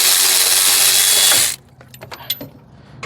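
A power tool whirs loudly and steadily for about a second and a half while removing a 13 mm AC compressor bolt from a Ford Ranger engine, then stops, followed by a few light metallic tool clicks and rattles close by.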